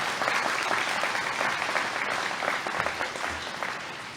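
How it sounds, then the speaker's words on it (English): Graduates at a Coconino Community College Arts & Sciences commencement ceremony clap for themselves, a broad, steady burst of hand clapping across a large hall that holds for about four seconds before easing off slightly. "Give yourselves a big hand clap."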